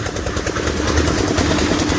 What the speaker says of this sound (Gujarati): અહીંયા તો ગોળો હાલે છે, ગોળો માલ બનાવવાનો